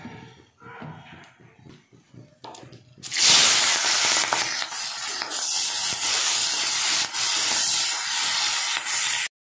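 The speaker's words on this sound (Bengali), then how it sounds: "বেগুন ফ্রাই হয়ে গেছে, এবার আমি পেঁয়াজ কলিটা ভেজে নেব।" Onion stalks dropped into hot oil for a Bengali vegetable and fish curry set off a sudden loud, steady sizzle and hiss after a few quieter seconds of kitchen clatter, holding strong to the end.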